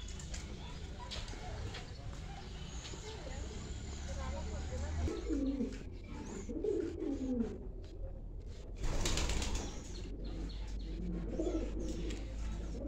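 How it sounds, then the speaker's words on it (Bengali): Domestic pigeons kept as pets coo softly with bursts of wing flapping and scuffling, set against a low background rumble while a person speaks nearby. "শুধু কবুতর পুষে রাখছে।"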